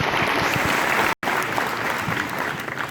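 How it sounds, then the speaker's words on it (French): An audience at a town's New Year greetings ceremony in Mèze claps warmly and steadily, a dense, loud wash of applause broken by one very brief dropout. "Et là, vous pouvez les applaudir aussi."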